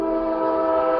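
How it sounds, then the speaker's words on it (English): Kansas City Southern Railroad train going by, a steady, sustained tonal drone with strong harmonic bands like a held horn or wheel hum, constant in loudness and heard alone. "Train's coming. There goes the Kansas City Southern Railroad."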